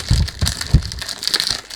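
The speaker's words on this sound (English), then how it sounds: "Sorry about the noise when you do unboxing." Perfume packaging for a 100 ml bottle of Abdul Samad Al Qurashi Oceanic eau de parfum being unboxed, close rustling and crinkling with a few soft knocks in irregular bursts, no voices.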